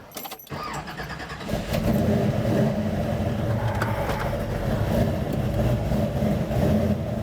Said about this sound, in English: I'm going to go do some burnouts and stuff in the car